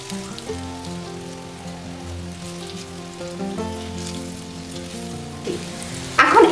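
Raw banana fritters sizzle in hot oil in a pan as they are flipped, under steady background music, with a brief louder burst of frying near the end.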